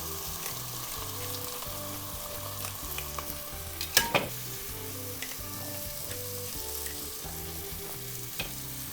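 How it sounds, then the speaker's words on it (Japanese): Steak reheats in a hot frying pan with pepper added, sizzling steadily and loudly throughout, with a few brief clinks and spits along the way. "このフライパン熱い状態でお肉をですね、温める感覚で加え"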